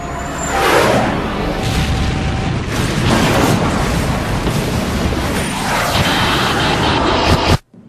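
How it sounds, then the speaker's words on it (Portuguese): Two Boeing 747 jumbo jets collide at Tenerife with a huge impact: a loud, sustained roaring crash rumble that fills about eight seconds before cutting off abruptly, with no voices. "E de repente, houve um baque, um impacto enorme."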